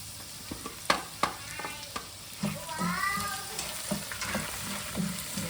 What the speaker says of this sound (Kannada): ಬೆಳ್ಳುಳ್ಳಿ ಹಾಕೋತೀನಿ ಈಗ